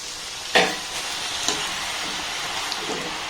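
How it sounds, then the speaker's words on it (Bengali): Chushi pitha dumplings drop into medium-hot oil with a sudden loud splash of sizzle, then settle into a steady soft hiss with a couple of faint clinks from stirring. "যেগুলো চুষি পিঠে শেপ দিয়েছি সেগুলো তেলের মধ্যে দিয়ে দেবো"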